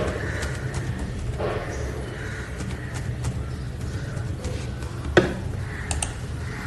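Computer keyboard keys tapped to enter an account number into an online billing form, quick irregular clicks over low room hum with one sharper key strike.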